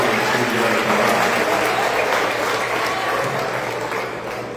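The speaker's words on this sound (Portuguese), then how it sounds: "1 milhão de aplausos é para ele." A church congregation claps together during a 60th anniversary jubilee service, sustained, dense applause that tapers slightly toward the end, with no voices over it.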